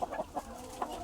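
Aseel rooster clucking nearby in a pen, a few short throaty calls in quick succession with no talk.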